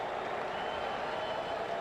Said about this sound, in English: See, this crowd is rooting for San Francisco.